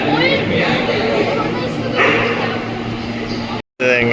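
A dog barks and yips close by amid continuous talking at a cow shelter in Canada, the barks blending into the busy mix of voices.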